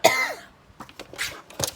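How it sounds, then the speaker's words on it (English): A woman coughs and clears her throat up close, one harsh burst followed by several shorter rasping clears, with no talk over it. "now I'm going to cough"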